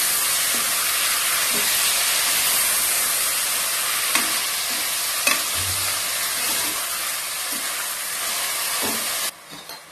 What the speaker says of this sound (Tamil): தக்காளியும் நல்லா வதக்கி விட்டுறலாம்.